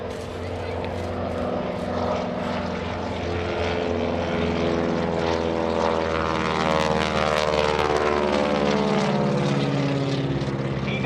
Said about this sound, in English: listen again to the sound of that 600 horsepower radial engine, the Pratt & Whitney R1340